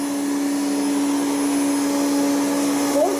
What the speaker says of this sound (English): Fully working Hoover Optima.